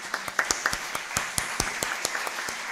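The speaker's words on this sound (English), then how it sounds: "she deserves a big round of applause" Audience applause at an international conference session, a modest group clapping in distinct, fairly sparse individual claps that continue steadily for a few seconds in a large room.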